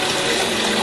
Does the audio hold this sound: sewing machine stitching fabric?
no